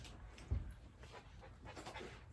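Dogs panting softly and rhythmically close by in a quiet room, with a brief thump near the start and a faint whimper toward the end.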